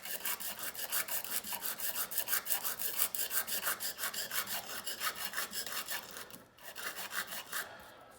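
A Union chisel, about 3/4 inch, rubbed back and forth on 100 grit sandpaper: steady, rhythmic rasping strokes, close and continuous with a brief pause, no talk.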